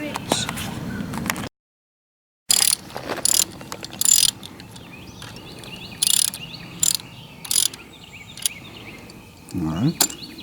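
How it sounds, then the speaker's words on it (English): A ratchet wrench torquing down bolts on a Camaro in a garage, with bursts of quick close clicking ratchet strokes separated by pauses and a brief silent gap early on. "We're going to put some blue Loctite on it and torque everything down"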